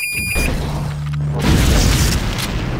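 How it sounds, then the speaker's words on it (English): EMP grenade detonating in the Deus Ex Nameless Mod: a short electronic beeping, then a low, loud boom that swells into a rumbling, crackling burst lasting a couple of seconds. "And I wasted an EMP grenade."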